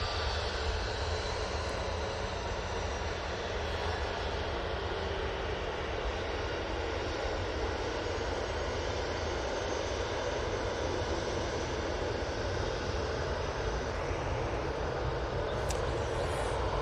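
An easyJet Airbus A320 departs Manchester Airport for Rome, giving a steady, broad jet roar with a low rumble that holds at an even level throughout, heard from a distance with no voices.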